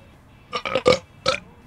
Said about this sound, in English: And burp into the mic to introduce the video.